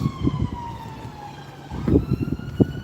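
An ambulance siren wails outdoors, a single long falling tone at moderate distance, heard alongside rustling, bumping handling noises close by.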